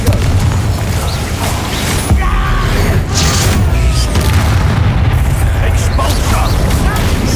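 Booming spell blasts and bursts from combat in the video game Hogwarts Legacy, loud and continuous over dense game noise with overlapping impacts, while voices shout incantations throughout.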